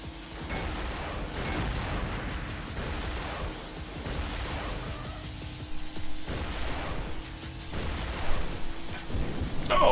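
Continuous machine gun fire in the Tomorrow Never Dies video game, a dense, rumbling stream of shots with explosion-like booms underneath, loud throughout.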